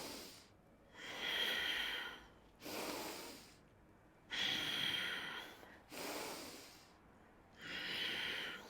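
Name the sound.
yoga instructor breathing in and out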